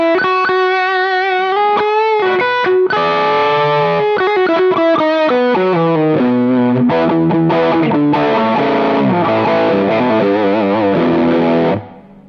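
Distorted electric guitar through Suhr effect pedals plays a lead line with sustained, bending notes and quick runs, alone, before cutting off near the end.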